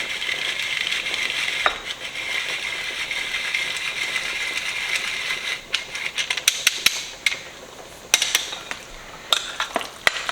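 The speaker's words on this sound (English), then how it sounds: "I also have Romano cheese. I'm going to grate in there." Romano cheese is grated into a bowl: a steady, close, hissing scrape that runs continuously, then turns into choppier strokes punctuated by sharp clicks and taps toward the end, with no talking.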